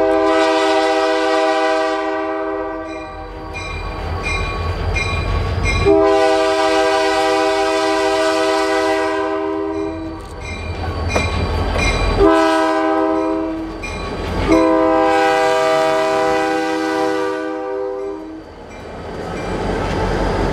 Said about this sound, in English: as they roll light power past us over a grade crossing